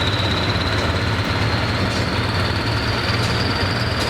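A John Deere 4255 farm tractor pulling at a tractor pull in Boonsboro, a loud, continuous, heavy engine roar that holds steady throughout, with no voices.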